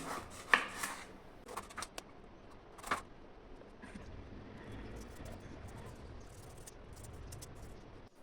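A knife cuts through ash gourd peel in a home kitchen with a few sharp, quiet chopping strokes early on, followed by a low steady background hum.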